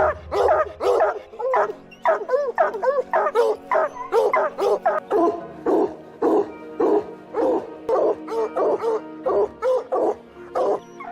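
Hunting dogs bark repeatedly in quick, loud bursts during wild boar hunting training, with yips and whimpers mixed into a steady rhythm of close barking.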